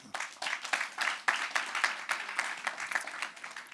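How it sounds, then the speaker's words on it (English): A crowd applauding at a youth economic summit, dense rapid clapping at moderate distance that keeps going steadily for several seconds with no voices over it. "Give yourself a round of applause."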